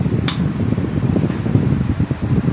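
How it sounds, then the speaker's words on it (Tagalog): A standard-brand electric stand fan runs steadily on its second speed setting, giving a continuous close whirring drone with a brief click near the start and no talking. "Isang standard stand fan."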